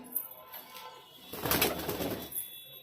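Highflyer pigeons in a loft give soft, low cooing, faint at first and then swelling into a fuller burst of calls with some rustling midway before easing off.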